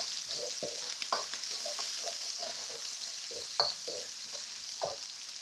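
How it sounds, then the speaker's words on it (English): Spring onion, garlic and ginger stir-fry in a wok for Chinese New Year cooking, a bright continuous sizzle broken by repeated scraping strokes of the spatula, close and without speech. "So those you want to fry for the fragrance to come out."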